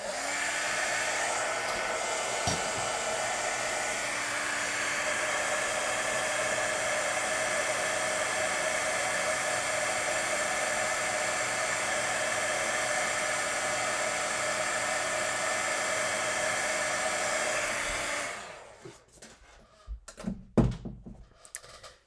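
A craft heat tool blows steadily for about eighteen seconds to melt embossing powder, a loud, even whirring hum that then cuts off, followed by a few light knocks and taps on the table.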